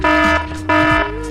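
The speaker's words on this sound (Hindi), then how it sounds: "ट्रेन आने के पहले आप देख सकते हैं अलार्म बजेगा" A loud, harsh electronic alarm from a homemade train accident prevention science project sounds in two long buzzing blasts with a short gap between them.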